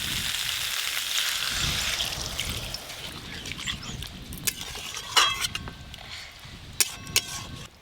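Broccoli and mushrooms simmer in a pan after water is added, giving a soft bubbling sizzle that fades, followed by a few sharp close clatters of a utensil against the pan.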